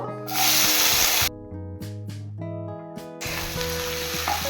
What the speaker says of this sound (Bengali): এবার এই তেলের মধ্যে আমি প্রথমে ফুলকপি, গাজর, বিনস ভেজে নেব